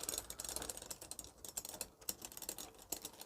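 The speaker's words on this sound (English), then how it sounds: "I'll just run the bike through the gears." A mountain bike derailleur clicks as the chain is run through the gears. Quick, close-up mechanical ticks and ratcheting clatter come in a rapid, uneven stream, fairly quiet with no voices.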